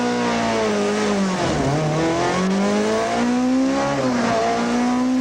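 A 1994 Volkswagen rally car launching onto a tarmac rally stage, its engine screaming loudly up through the revs with two quick gear-change dips, heard close from inside the car.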